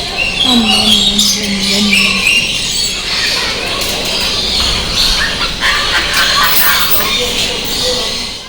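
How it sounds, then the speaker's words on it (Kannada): Inside a bird enclosure in Mysore, many birds chirp and squawk together in a dense, continuous chorus, loud and close, with a voice briefly heard amid the calls. "ಒಳಗಡೆ ಅಂತೂ ಫುಲ್ ಆ ಪಕ್ಷಿಗಳ ಕಲರವನೇ ಕೇಳ್ತಾ ಇರುತ್ತೆ ನಿಮಗೆ"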